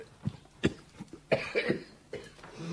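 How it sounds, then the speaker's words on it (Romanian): A man coughs in short bursts after lighting a cigarette in a Romanian radio drama, several dry, rough coughs spaced irregularly across a few seconds, close and fairly clear with no talk over them. "de la primul fum vei începe iar a tuși"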